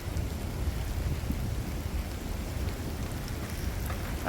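Steady rain hisses and patters outdoors during a storm, with low rumbling thunder underneath, a dense continuous wash with no voices.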